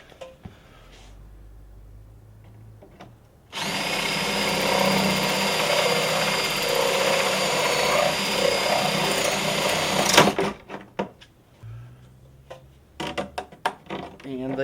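A large bit in a drill bores through a plastic panel so an exhaust pipe can pass, making a steady loud whine that lasts about seven seconds, then stops abruptly and leaves scattered clicks and handling noises.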